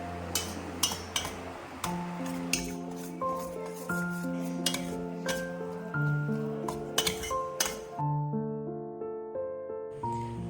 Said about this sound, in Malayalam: ഇനി ഒന്ന് നമുക്കൊന്ന് ജസ്റ്റ് ഒന്ന് മിക്സ് ചെയ്ത് കൊടുക്കാം.